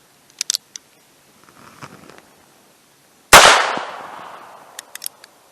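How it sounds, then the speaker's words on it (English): A single sharp, loud report from a Federal Premium Punch .22 LR round fired over a chronograph, with a quick decaying tail. A few faint clicks and light handling noises come before and after it. "So we're going to do a 5-round average and see what the velocity on this is."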